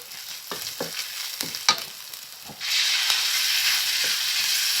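Chili and garlic stir-fried in a wok for spicy eel: a few sharp spatula scrapes and clanks, then a loud, steady hiss of sizzling oil takes over and holds to the end, close up with no talking.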